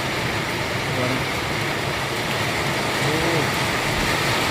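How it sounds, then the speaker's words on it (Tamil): Steady, dense rain pours down continuously in a village with no wind, a broad wash of hiss with a low rumble underneath, loud and close throughout. "இப்போ மறுபடியும் ஆரம்பிச்சு இப்போ காற்று இல்லை மழை அதிகமாகிட்டு"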